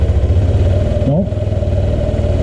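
A 2005 Honda Metropolitan scooter engine runs steadily at a low idle after a fuel pump replacement, its continuous mid-low drone close by, with a brief voice heard over it midway.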